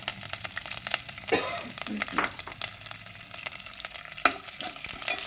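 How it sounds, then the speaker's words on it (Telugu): Fenugreek, cumin, mustard seeds and curry leaves crackle and sizzle in hot oil as tempering for a stuffed brinjal curry, with bursts of spoon stirring and clinks over a steady close sizzle, and no talking. "మెంతులు, జీలకర్ర, ఆవాలు, మొదలతో కరివేపాకు వేసి పోపు దినుసు పెట్టాలి"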